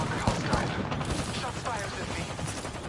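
Artillery fire from a PS4 shooter game, a dense rumbling barrage of booms and blasts running steadily throughout, mixed with game sounds and a voice speaking over it.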